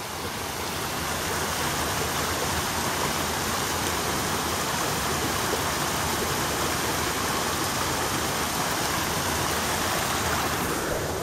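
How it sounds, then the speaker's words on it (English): Spring water at Iargo Springs, flowing toward the Au Sable River, rushing in a steady, loud, unbroken wash from start to finish. "these springs actually flow all the way over to the Au Sable River"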